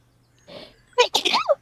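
A short breathy intake is followed by a sharp, close sneeze, then brief voiced sounds right after, in a quiet setting.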